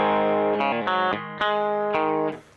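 Clean electric guitar run through a Mooer Spark compressor pedal with its bright switch engaged, on a compact pedalboard built around a Boss ES8: a few sustained, evenly compressed chords struck in turn, close and fairly loud, ringing alone before fading.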